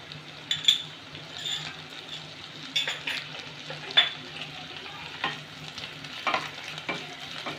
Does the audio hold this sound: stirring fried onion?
yes